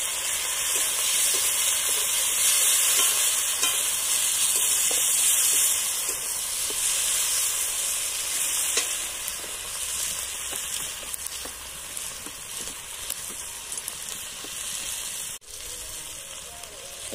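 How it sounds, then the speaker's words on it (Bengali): Chopped tomato frying in spiced oil for a village-style mourala fish curry, a steady close sizzle and hiss that runs the whole time with faint stirring scrapes, no talk. "আবারও একটু ভেজে নিচ্ছি। এইবার দিলাম একটি বড় সাইজের টমেটো কুচি।"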